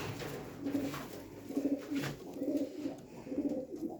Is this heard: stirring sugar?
no